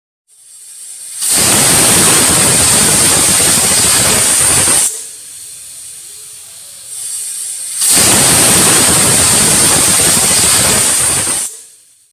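Pressure cooker cooking chicken gizzard and liver gives two long, loud hissing whistles of steam, each lasting several seconds, separated by a quieter pause, with no talking.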